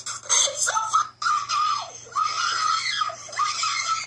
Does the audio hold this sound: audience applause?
no